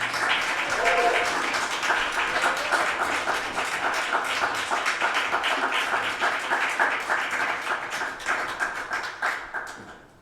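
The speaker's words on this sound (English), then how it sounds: "give another round of applause to Caleb" An audience at a live comedy show at A Town Center applauds steadily for about ten seconds, a dense wash of clapping that gradually thins and fades out at the end.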